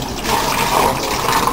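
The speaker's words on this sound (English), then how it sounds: "we need to rinse the pot with some fresh water." Fresh water poured into an emptied Alto-Shaam fryer pot to rinse it during a boil-out cleaning, a brief continuous splashing pour, fairly close and moderately loud, with no talk.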